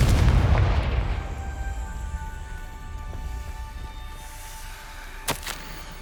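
Confringo fire spell explosion in Hogwarts Legacy: a loud booming blast at the start decays into a long rumbling tail, followed by a couple of faint thuds.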